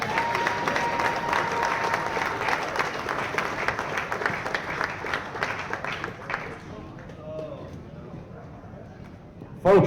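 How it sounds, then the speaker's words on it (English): Hall of Fame induction audience applauding for a bowling inductee, dense steady clapping that fills the room for several seconds and then dies away to quiet murmur before a voice returns at the end. "How about another round of applause for Dustin Adams?"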